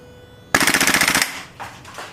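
A WE SCAR airsoft rifle fires 0.25 gram BBs on full auto, a sharp rapid burst of about a dozen snappy shots lasting under a second, loud and close, followed by faint mechanical clicks.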